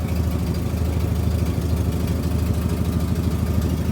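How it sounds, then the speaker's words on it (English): A 1946 Jeep engine idles just after starting, a loud, steady low rumble with a fast, even mechanical pulse that runs unbroken at close range. "That little engine sounds so good."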